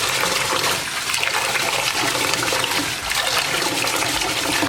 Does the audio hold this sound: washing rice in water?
yes